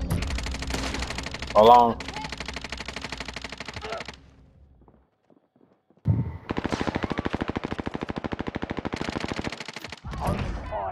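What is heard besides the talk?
gunfire in a video game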